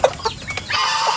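Farm chickens and turkeys cluck close by in a short burst of overlapping calls, one sharp cluck opening the sequence followed by quicker chatter and a drawn-out squawk.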